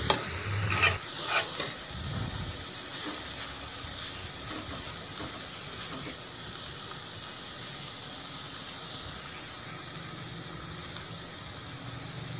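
A spoon stirs chicken and vegetable roll filling in a pan, with a low sizzle and soft scraping. A couple of clanks come early, then a quieter steady frying hiss follows.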